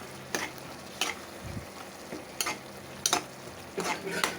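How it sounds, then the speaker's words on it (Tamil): Prawn thokku sautéing in a pan, with a steady low sizzle and several sharp scrapes and clinks from stirring spaced across the clip. "சரி நல்லா வதக்கிக்கலாம் கொஞ்சம் நேரம் வேகட்டும்"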